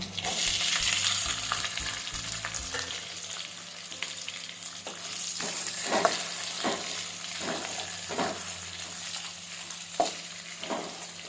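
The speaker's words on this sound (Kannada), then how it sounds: "ಆನಿಯನ್ ಸ್ವಲ್ಪ ಫ್ರೈ ಆಗಲಿ." Chopped onion with curry leaves fries in a pan with a steady sizzle, broken by a series of regular scraping stirs that pop out every second or so.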